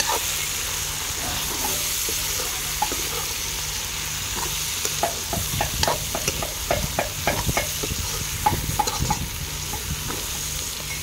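Tomatoes stirred and fried for an Assamese chicken dish: a steady oily sizzle runs throughout, joined midway by a burst of close, uneven scraping stir strokes against the pan, with no talking.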